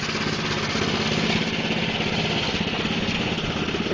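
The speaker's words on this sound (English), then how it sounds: "I put this Honda motor on it that I picked from a junkyard." The Eager-1 snowblower, fitted with a Honda engine pulled from a junkyard, runs at a steady idle close by, a loud, rough, pulsing drone that never lets up.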